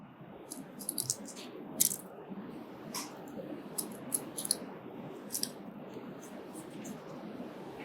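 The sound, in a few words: scissors cutting paper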